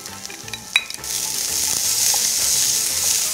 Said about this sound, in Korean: 파마늘이 노릇해질 때까지 가볍게 한번 볶아주세요.